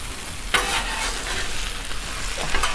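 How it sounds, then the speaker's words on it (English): Potatoes and smoked sausage fry on a Blackstone griddle, a close, steady sizzle broken by scraping spatula strokes as the food is stirred. "I'm just gonna let them cook and fry up for a second."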